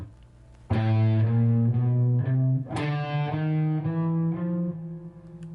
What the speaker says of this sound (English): every time the click comes down, accent with a harder pick stroke. So your group of 4 would sound like this.